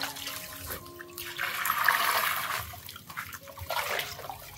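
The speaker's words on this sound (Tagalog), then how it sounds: "may tubig para yung mga sabon nawawala" Water runs steadily to rinse soap away during hand washing of shoes, a close, continuous splashing flow that swells in the middle and then eases off, alone without voices.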